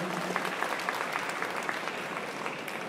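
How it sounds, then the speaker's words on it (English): Sustained applause from an audience at a city's State of the City address, steady clapping throughout with a faint murmur of voices underneath. "Thank you for giving these effective administrators a big hand or a round of applause"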